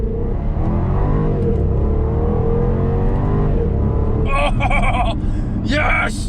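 A Jaguar XKR's 5-litre supercharged V8 pulls hard in first gear, a loud sustained engine roar that climbs in pitch, with a voice speaking over it throughout.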